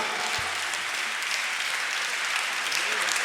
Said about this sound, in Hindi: तालियां जरा बजा दो जोरदार, मस्ती वाली, आनंद वाली।